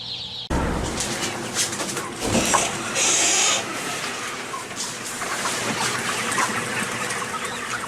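At a crowded chicken farm in Anseong, Gyeonggi Province, a dense mass of young chickens clucks and cheeps under a constant broad wash of noise, with occasional wing flapping.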